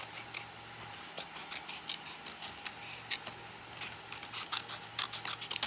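Scissors snip out a paper die cut in a fast, uneven string of crisp close cuts and small clicks, with no voices.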